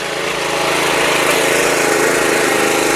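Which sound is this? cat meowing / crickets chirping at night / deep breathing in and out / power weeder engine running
power weeder engine running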